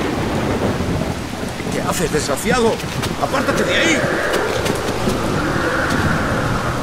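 Heavy rain and rumbling thunder from a storm pour in through a window flung wide open, a steady loud wash throughout, while someone shouts angrily over it.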